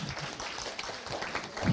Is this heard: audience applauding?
yes